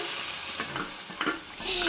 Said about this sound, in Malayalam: ഇതിൻ്റെ അകത്തോട്ട് കടുക് വറുത്തത് ഇട്ട് കൊടുക്കാം